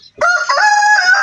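A rooster kept among free-roaming chickens at a rented house gives one loud, close crow that rises and holds steady for about a second.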